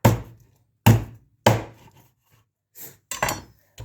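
A knife chops duck meat for larb on a board, five sharp, loud, close strikes at uneven intervals with short silences between, and no talking.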